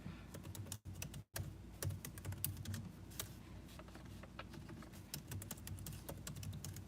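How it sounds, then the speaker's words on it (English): ASMR computer keyboard typing in a streamed session: soft, continuous key clicks in an uneven rapid patter, close but quiet, with two very brief gaps near the start. "it's like an ASMR typing stream"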